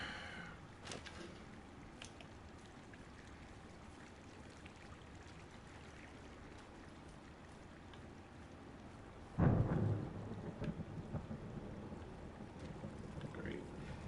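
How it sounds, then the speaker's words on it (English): Rumble of thunder in the video game Firewatch, a broad low burst arriving about two-thirds through over a steady outdoor ambience of wind and rain, then trailing off into a faint grumble. "Hey, I heard some thunder."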